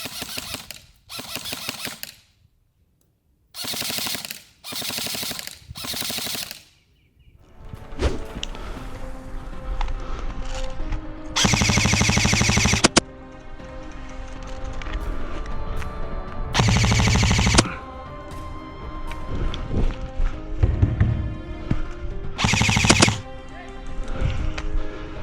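A Krytac Trident MK2 airsoft rifle fires BBs during gameplay in rapid bursts of sharp mechanical clatter, some short and some sustained, separated by pauses over a steady background outdoors.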